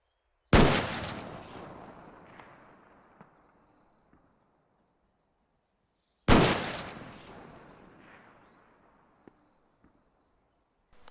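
Two loud, sharp gunshots from a modded video game gun, several seconds apart, each followed by a long rumbling echo that fades slowly, with small clicks in between.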